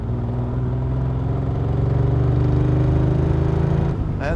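A 1974 Triumph TR6 engine pulling in second gear, a steady, loud, close mid-pitched drone that climbs gradually for about four seconds before the revs drop sharply at the shift.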